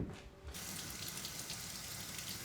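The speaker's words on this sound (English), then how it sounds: "Rinse the membrane microfilter underwater." A LifeStraw home pitcher's membrane microfilter is rinsed under a running tap, a steady close hiss of flowing water that starts abruptly and holds evenly, with no talking.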